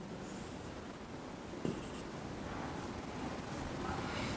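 Pen or marker writing out steps of a linear equation solution, a steady scratchy stroke sound running continuously and fairly close, with one brief tap partway through and no talk.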